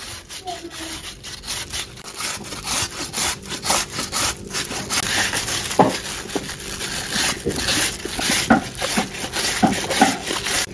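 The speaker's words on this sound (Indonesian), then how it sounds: "Selanjutnya ini mau aku serut pakai serutan kayak gini." Peeled fruit is rubbed against a hand grater in quick, rhythmic rasping strokes, close and loud, continuing steadily throughout.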